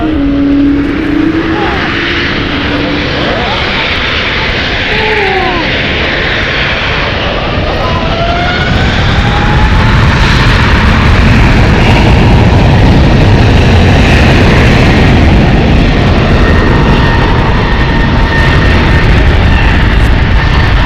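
A Boeing 777-200ER jet taxis at San Francisco International Airport, its engines a loud, steady broadband roar and whine that swells slightly toward the end, heard up close with faint voices underneath.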